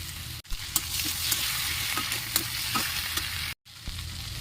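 Tomato and green chili fry with cumin and coriander powder in a pan, giving a close, continuous sizzle with scattered stirring scrapes and two short breaks of silence, no talking.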